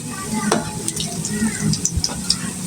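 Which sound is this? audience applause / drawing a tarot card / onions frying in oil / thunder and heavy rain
onions frying in oil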